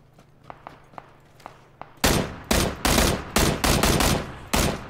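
Close, loud gunfire from a PUBG match, a rapid string of sharp shots cracking in quick succession after a quieter stretch of soft footsteps.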